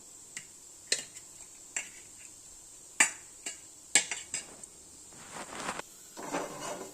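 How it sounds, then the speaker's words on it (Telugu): Knife cutting soft steamed idli into pieces on a board, a handful of sharp separate taps at an uneven pace, close and clear, with a short rustle near the end. "ఫస్ట్ ఇడ్లీని ఇలాగా ముక్కలు కట్ చేసుకోవాలి"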